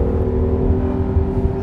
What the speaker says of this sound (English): the downpipes that you can add to it, which will add a little bit of power and really open up the car as far as the sound goes